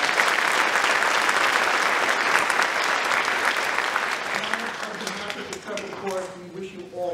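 A big crowd at a high school winter concert claps continuously and strongly, the applause slowly thinning out toward the end while a voice comes in underneath.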